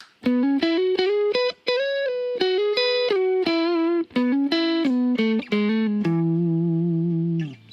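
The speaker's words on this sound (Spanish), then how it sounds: "la guitarra suena así originalmente en la pastilla neck" A clean Gretsch Electromatic Jet G5230T electric guitar on its neck pickup plays a lively melodic phrase of single picked notes, then lets a final chord ring out, bright and close with no talking.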